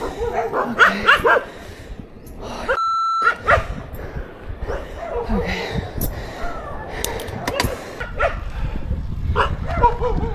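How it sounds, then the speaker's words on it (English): A crowd of dogs bark, yip and whimper on a roadside during a long overland drive from Bangkok toward China, loud and overlapping from several directions throughout. "Look at all of these dogs."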